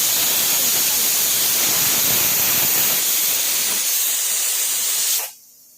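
A pressure cooker cooking ash gourd vents steam in a loud, continuous hiss that holds steady for about five seconds, then abruptly cuts off, leaving near silence.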